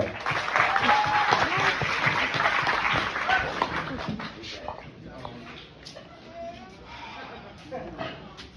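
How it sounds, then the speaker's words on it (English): An audience at a church service claps loudly for several seconds after a testimony, the applause thinning out and fading as voices talk over it. "round of applause for TJ."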